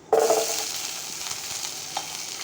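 Small shallots drop into hot oil with cumin in a pan and burst into a loud, steady sizzle that settles into continuous close frying.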